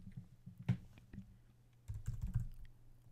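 Keys clatter in quick, uneven bursts as code is typed on a computer keyboard, with clustered clicks early on, a brief pause, then another flurry, recorded close and fairly quiet with no talking.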